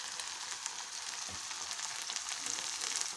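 Soya chunks with sauces sizzle in a frying pan while being stirred, giving a steady, moderate frying hiss with faint scraping, and no voices.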